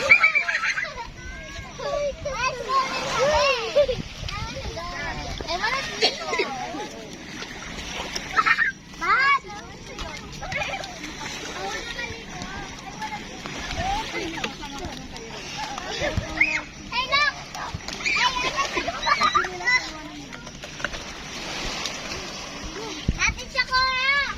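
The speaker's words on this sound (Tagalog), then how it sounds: "Siya, lublob na sa tubig." Children swimming in the sea, splashing and playing in the water with repeated bursts of splatter close by, mixed with lively kids' chatter and adult voices throughout.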